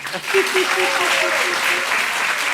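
Steady applause from a show audience in Brazzaville, Congo, fills the whole clip, dense and even, with a few tonal sounds faintly mixed in near the start.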